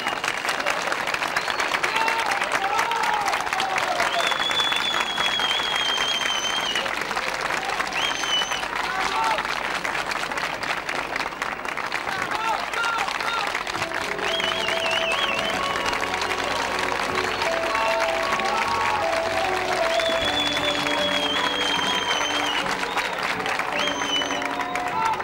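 A theatre audience claps steadily for the bride and groom candidates as they are invited on stage, dense applause filling the whole stretch under tonal sounds and voices.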